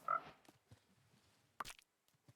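Frogs croaking in Minecraft around a pond, a few short, sparse croaks and soft blips spaced over a couple of seconds, fairly faint with quiet gaps between.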